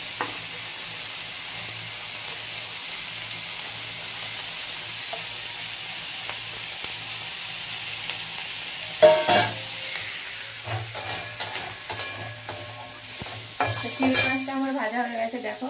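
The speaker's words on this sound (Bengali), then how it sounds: "তো চিংড়ি মাছটা আমার ঘরে ভাজা হচ্ছে" Shrimp sizzle in a pan at home, a steady frying hiss for a while, then scraping stirs and clinks of a utensil against the pan grow busier toward the end.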